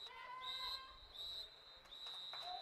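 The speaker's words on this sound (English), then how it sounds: "And I believe that's our final whistle for the third quarter" A referee's whistle at a lacrosse match sounds in several short, shrill blasts, faint and distant over quiet crowd ambience.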